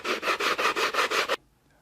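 Hand sanding wood with 80 grit sandpaper, about seven quick, even, close back-and-forth rasping strokes, then silence.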